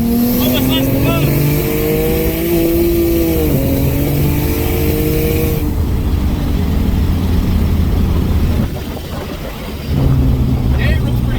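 A turbocharged Ford Mustang S197 V6 with a low-mount turbo kit accelerates from a roll, engine pulling loud and close in long rising sweeps, briefly easing off before surging again near the end.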